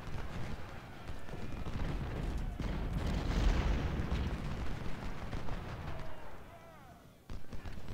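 Napoleon cannons firing during a Civil War battle in Ultimate General: Civil War, a dense rumbling barrage of booms and blasts that continues throughout, with a sharp burst near the end.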